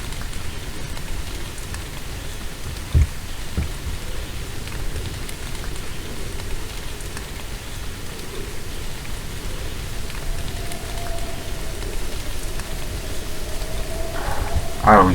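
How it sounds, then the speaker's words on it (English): Continuous rain and wind on a barren island at night in the video game The Moon Sliver, a steady dense hiss with a brief thump early on and a faint tonal sound near the end. "raining."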